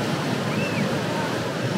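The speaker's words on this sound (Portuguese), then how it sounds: "umas ondas enormes nessa região aqui" Large ocean waves break on a coast crowded with surfers, a steady, moderately faint surf roar with wind noise and no speech.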